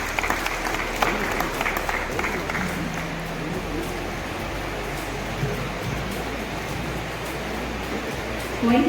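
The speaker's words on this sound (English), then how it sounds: "Give a big hand" Steady applause from an audience at a college society function, dense clapping sustained throughout at moderate level, with a brief louder swell near the end.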